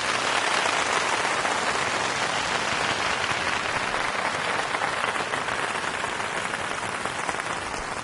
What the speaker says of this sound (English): Not as loud of a cheer as Ashley, but still pretty good.